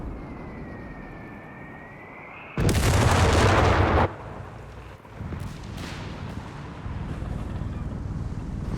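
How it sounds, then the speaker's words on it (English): Mortar shell exploding in Company of Heroes 3 during a 4v4 match, a single loud, broad boom lasting over a second, followed by lingering battlefield rumble. "Ooh, big mortar hit."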